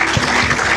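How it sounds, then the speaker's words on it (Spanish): Brief burst of congregation clapping during a church service on family relationships and married life, short, close and fairly loud, with a low thump near the start. "Le damos un aplauso"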